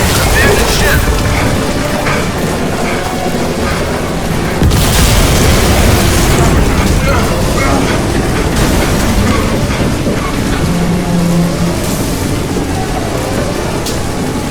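A ship's hull breach blast in the Crysis video game: a loud, dense, continuous rumble of booms and groaning metal with a heavy surge near the middle, voices shouting in the mix.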